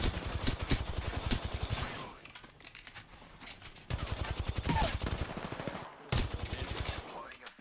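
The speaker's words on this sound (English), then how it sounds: "Taking fire." Video game gunfire rattles in rapid automatic bursts, loud and close, with a short lull before the shooting resumes; people talk intermittently underneath.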